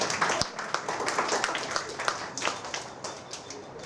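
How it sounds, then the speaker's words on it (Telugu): Audience clapping at a children's storytelling event celebrating an anniversary, a light scattered round of applause from a modest crowd with bird calls in the background. "ఇప్పుడు చప్పట్లు కొడితే బాగుంటుందని అనుకుంటున్నాను."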